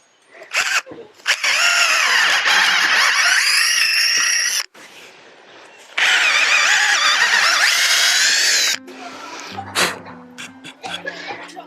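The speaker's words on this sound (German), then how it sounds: "Ich habe jetzt erstmal so 3 Löcher vorgebohrt mit einem etwas kleineren Bohrer." A power drill fitted with its largest bit bores holes outdoors in a garden, pre-drilled for bamboo poles. The motor whines loudly in two long sustained runs separated by a pause, with brief handling clatter and knocks afterward.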